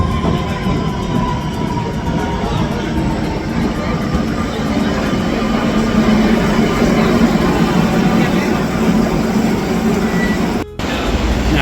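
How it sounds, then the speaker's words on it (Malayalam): A Barcelona subway train rumbles into a station with a loud, sustained roar and rail noise filling the whole stretch, steady and close, ending with a brief cut. "സബ്വേ വന്നുണ്ട്."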